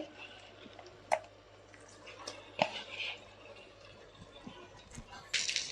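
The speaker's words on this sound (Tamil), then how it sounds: "இப்போது இந்த ஸ்டேஜில் நம்ம க்ளீன் பண்ணி வச்சுருக்க மட்டனை சேர்த்துட்டு" Cleaned mutton dropped into red chili paste in a pressure cooker gives soft wet squishes, drips and a few sharp clicks of a utensil, quiet and close.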